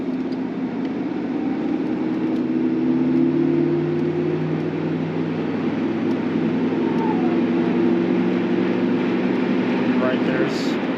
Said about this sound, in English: we'll let that 5-liter breathe a little bit